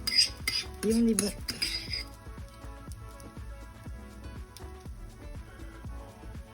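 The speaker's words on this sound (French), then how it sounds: "maintenant on n'a plus qu'à mélanger tout ça" A spoon stirs a dessert mixture in a bowl, with a few bright clinks and scrapes up front and then softer, irregular taps and swishes. A voice speaks briefly near the start.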